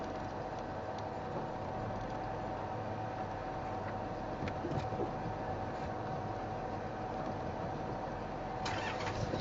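A vehicle on a safari game drive creeps forward, a steady low engine rumble with faint rattles throughout and no talk.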